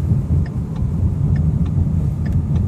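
A 2015 Ford Mustang driving through busy traffic, a steady low engine and road rumble heard from inside the car, with faint ticking clicks over the drone.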